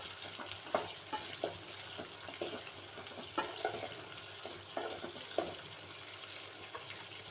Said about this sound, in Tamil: முள்ளங்கி போட்டு எண்ணெயிலே வதக்கிக்கலாம்